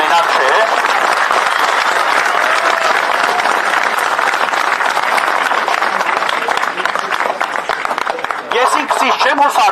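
A large crowd at a protest rally applauds loudly and continuously, with dense clapping that holds steady throughout and a few shouts mixed in.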